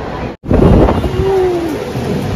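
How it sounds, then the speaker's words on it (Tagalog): Heavy rain pours steadily with a dense, broad hiss and a low rumble of thunder beneath it. A brief dropout falls near the start and a faint tonal whine passes through, and no one speaks. "Lakas ng ulan."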